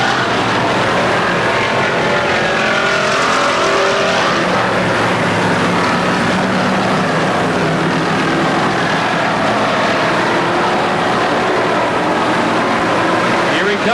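Race cars roar around Pennsylvania Motor Speedway at a regular show in 1998, producing a loud, dense, continuous engine drone throughout, heard from trackside with an announcer's voice over it.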